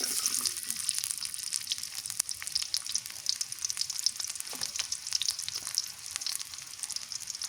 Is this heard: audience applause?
no